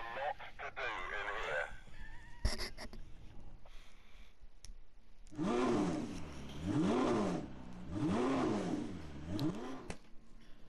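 A Ferrari engine at a race start in The Grand Tour game revs in repeated rising and falling surges, loud and close, after some clicks and a faint short voice earlier.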